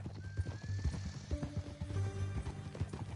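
Horse hooves clip-clop steadily in Red Dead Redemption 2, joined by a loud whinny, with game music and ambient sound underneath.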